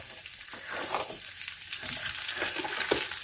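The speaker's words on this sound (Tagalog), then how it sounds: "Ilalagay na natin yung sibuyas. Yan muna yung una natin igigisa." Chopped onions sauté in a hot pan, giving a steady close-up sizzle and frying hiss with occasional stirring scrapes, no voices.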